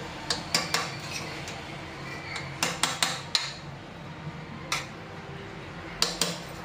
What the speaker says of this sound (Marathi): तर ह्याला ना मिक्स करून घेते चांगलं, सगळीकडे मिक्स होईल.